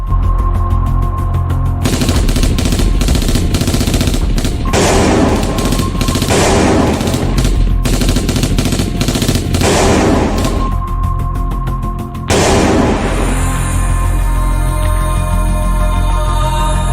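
Sustained bursts of machine gun fire from Dutch marine infantry in a battle for Surabaya, loud and dense with rapid repeated shots and short pauses, heavy low rumble throughout, no voices.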